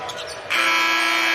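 End-of-game buzzer at an NC State college basketball game, a loud steady electronic buzz that cuts in abruptly over crowd noise and holds.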